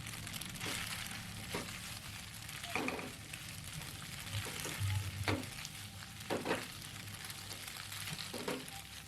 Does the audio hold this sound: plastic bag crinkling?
no